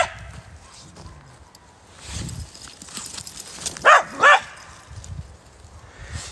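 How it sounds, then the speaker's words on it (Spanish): A loose dog that keeps escaping barks twice in quick succession outdoors, loud and fairly close over faint background noise and footsteps. "Este perro siempre se escapa en el mismo punto"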